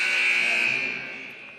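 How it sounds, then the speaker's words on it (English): A fire alarm sounds in a basketball gym during a game, a loud continuous electronic buzzing tone that holds steady and then fades slightly toward the end. "we actually now have the fire alarms going off again"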